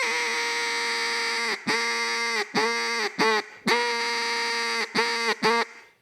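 A duck call blown low and full by a nine-time world champion caller: long, steady raspy quacks with a deep bottom, in a rhythm of sustained notes broken by short pauses. The call is loud and close, with no voices.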